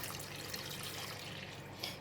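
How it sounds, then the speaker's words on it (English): A steady, even rush of water pouring into a pot, continuous and close, with a brief louder splash near the end. "I'm going to add in some more water."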